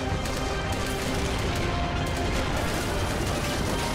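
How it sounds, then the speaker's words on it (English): Artillery and gunfire rage across a plastic army men battlefield in a video game, a thick, unbroken wall of shots and blasts with no pauses, loud and close throughout. "Still a lot of artillery moving in. Another shot from over here."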